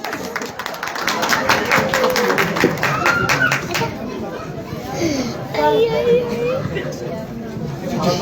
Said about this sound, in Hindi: तो इफ्राम के लिए तालियां।